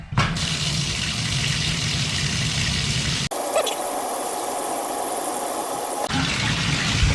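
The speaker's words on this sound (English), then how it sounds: "even though the water is still running" Tap water pours steadily into a plugged bathtub, a loud continuous rushing stream that briefly shifts in tone midway before resuming its full gush.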